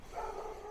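A dog barks once at a moderate distance, a single muffled woof that hangs briefly in a quiet room.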